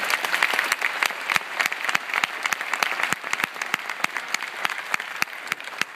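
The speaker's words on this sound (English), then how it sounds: "Yeah, I wish you applaud them." An audience at a film Q&A screening applauds the movie's crew: dense, steady clapping from many hands fills the room throughout, with sharp individual claps standing out and no talking.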